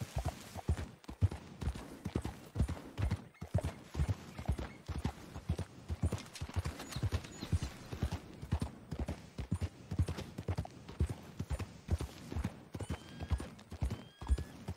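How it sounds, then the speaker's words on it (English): Steady clip-clop of horse hooves in Red Dead Redemption II, loud and close, running the whole time with a rhythmic trotting beat, and a brief whinny from the spooked horse. "My goddamn horse got spooked and run off."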